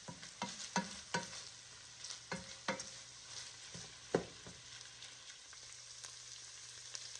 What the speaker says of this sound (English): We're going to mix this until the vegetables are soft and the onions are translucent.